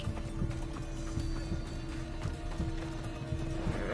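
Horse hooves clip-clop in a steady trotting rhythm in the video game Assassin's Creed Odyssey, moderately quiet and mixed with ambient game sound, with no talking.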